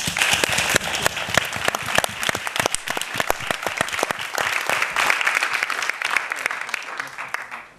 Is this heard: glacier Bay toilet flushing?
no